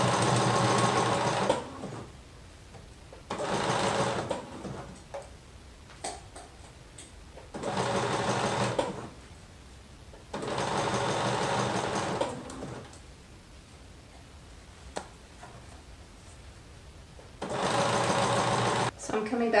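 Sewing machine stitching a liquid lamé shirt, running in five fast rattling bursts of one to two seconds each, with quiet pauses and handling noise between them.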